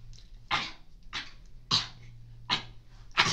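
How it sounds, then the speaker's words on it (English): Five sharp, deliberately faked coughs in an uneven rhythm over a little more than three seconds, each a short burst close to the microphone, with quiet gaps between. "We got a fake cough"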